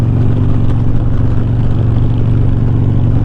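Harley-Davidson M8 motorcycle with a new deep-toned slip-on exhaust passing on a straight road, a loud, steady low engine rumble holding throughout with no talk.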